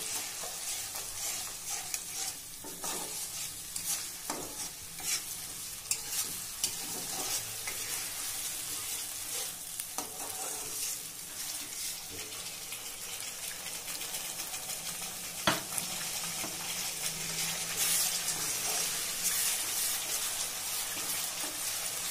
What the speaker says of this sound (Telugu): అప్పుడు ఇంక టమాటా ప్యూరీ కలిపేసుకోవాలండి.